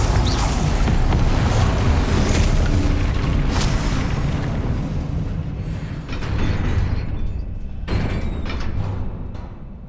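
In Hogwarts Legacy, a Confringo fire blast spell erupts into a loud, sustained roaring boom with rumbling debris, fading then swelling again before tapering off.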